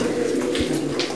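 Flying-breed pigeons kept in a loft coo in a low, steady murmur, close and fairly loud, with a few soft bumps and rustles mixed in.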